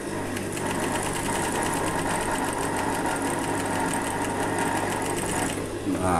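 A sewing machine stitches at a steady speed, a close, fast rhythmic clatter and hum that runs almost the whole time before easing at the end, with a voice speaking over it.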